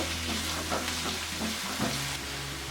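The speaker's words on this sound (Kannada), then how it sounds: "ಎಣ್ಣೆಲೆ ಚೆನ್ನಾಗಿ ಫ್ರೈ ಆಗಬೇಕಿದು" Fresh peas and carrots frying in oil in a pan for potato saagu, a moderate continuous sizzle with faint intermittent stirring, heard close with no talking.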